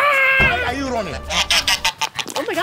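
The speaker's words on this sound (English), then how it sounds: "These guys are geese, but they're not really that silly." Geese on a farm give a loud, nasal, drawn-out honk up close, followed by a string of shorter choppy honks and squawks from the flock.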